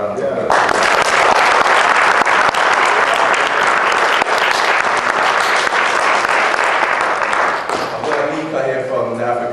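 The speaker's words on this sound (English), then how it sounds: "So if you give him another round of applause." Loud, close round of audience applause after a presentation at an African Caribbean Society event, full and sustained for most of the clip before easing off near the end.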